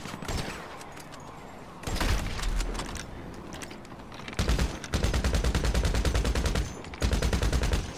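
Video game gunfire in a multiplayer lobby fight, loud bursts of rapid automatic shots and separate single cracks, near and harsh, broken by short lulls.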